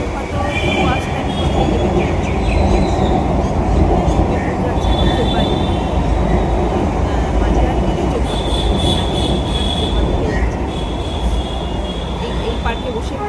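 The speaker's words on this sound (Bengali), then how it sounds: "এই পার্কে বসে পুরো মেট্রো দেখা যায়, চলে গেল" A Kolkata metro train on the Joka line rumbles loudly past a park near Green Park, with a steady heavy roar, rattling wheels and high squeals that last throughout.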